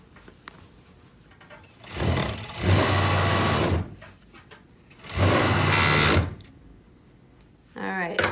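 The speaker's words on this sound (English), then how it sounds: "the bottom is serged, and then we can serge all the way around" A serger sewing machine overlocks the edge of fabric for a pouf ottoman cover, running in two loud, steady bursts of about two seconds each, with a voice talking during the pauses.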